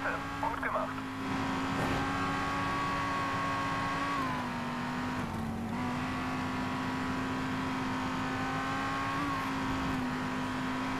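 A racing car engine in the video game Race Driver GRID drones steadily with shifting pitch as the car climbs through the gears and eases off, and a voice talks over the engine at moments.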